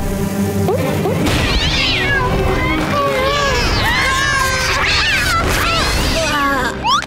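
Several cats meow and yowl over one another in quick succession in an animated cartoon, loud and busy, over a continuous background of music and commotion.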